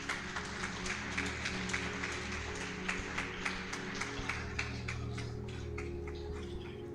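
Church congregation clapping in a steady rhythm during a worship service, faint and distant, with soft music running underneath.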